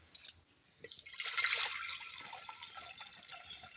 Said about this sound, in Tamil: அதுக்கு தேவையான அளவுக்கு தண்ணி ஊற்றிக்கலாம்.